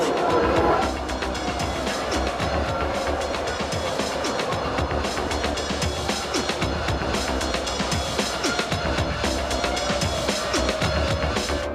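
Formula One cars from the 1996 season roar away together at a race start, a dense, steady wall of high-revving engine noise with tyres spinning, loud and continuous with a brief commentary voice at the beginning.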